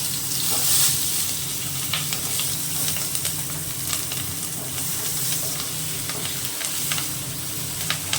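Green chillies and onion sizzle loudly in fish oil in a large pot for a festive lunch dish, a dense continuous crackle with occasional stirring scrapes, close and alone.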